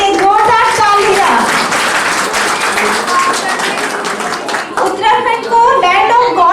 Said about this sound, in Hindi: सानिध्य मंगाए के लिए एक जोरदार तालियां